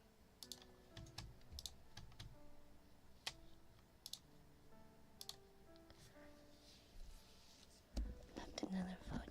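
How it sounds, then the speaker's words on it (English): Typing on an Epomaker TH108 gasket keyboard makes quiet, irregular clusters of close key clicks, heavier near the end, under soft, low speech. "It's Epo Maker TH108 keyboard. Some keyboard I got off of Amazon."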